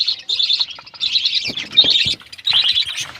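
Two small birds in a breeding colony trade rapid high chirps and tweets back and forth, close and clear, with brief pauses and faint rustling between calls.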